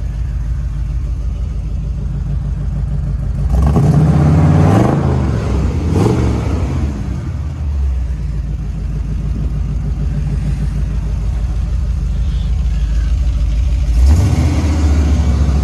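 A Jeep CJ-7 with a V8 engine and four-speed idles with a steady low rumble, then revs up loudly several times between about 3 and 7 seconds and again briefly near the end, close by with no talk.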